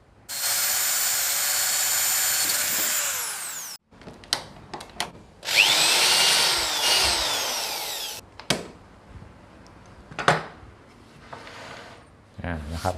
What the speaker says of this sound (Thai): เดี๋ยวเอาดอก 2 ชั้นตัวนี้เอา M8 มาเจาะนะครับ